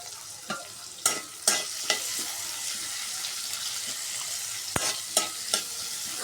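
Onions and chillies fry in a pan with a steady close sizzle, punctuated by several sharp scraping stirs and clatters of the spoon against the pan.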